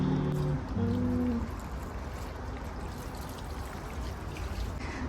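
Water pours from a watering can onto a terracotta potted plant in a dry garden, a steady close splashing trickle that continues throughout without talk.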